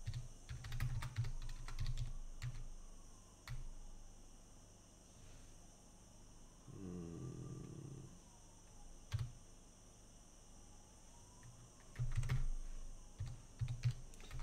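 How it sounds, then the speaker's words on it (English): Computer keyboard typing comes in short bursts of close clicks, with quiet pauses between the flurries and a faint steady hum in the background. "Just means you've got to type it out,"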